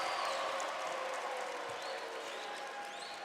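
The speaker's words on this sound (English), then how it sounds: "the Hills East bench is clapping" A team bench applauds during a high school boys basketball game in a gym, a brief spread of steady clapping mixed with crowd murmur and a couple of faint sneaker squeaks.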